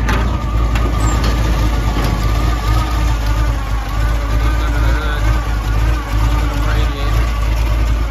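A 1952 GMC 100 short bed pickup truck engine idles loud and close, a steady low rumble with a throaty hot-rod burble that holds throughout.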